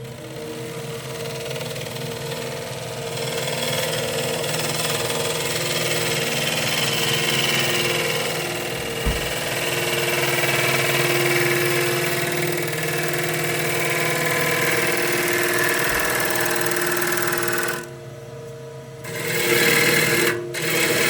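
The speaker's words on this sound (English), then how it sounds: "This is just a scraping action, so the flute is facing the bottom of the bowl." Gouge with a 40-40 grind scraping the inside of a wooden bowl spinning on a lathe, a steady whirring drone with a rasping scrape layered over it, loud and continuous, dipping briefly near the end.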